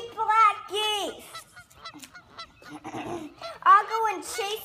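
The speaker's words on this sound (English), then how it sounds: "Sergi got kidnapped by the three black geese." Several black geese honk loudly in repeated nasal calls, a few overlapping, close by with short pauses between bursts.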